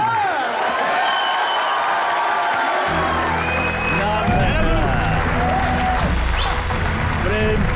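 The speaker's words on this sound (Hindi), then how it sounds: "जोरदार तालियां एक बार।" A studio audience at a televised comedy show claps and cheers in a sustained roar with whoops. Voices and musical tones carry over the applause as it swells louder partway through.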